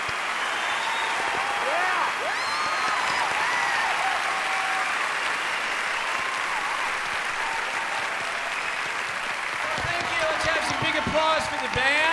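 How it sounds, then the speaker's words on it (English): Sustained audience applause for a band at a live music performance, steady and dense throughout, with voices rising over it near the end. "Applause for the band"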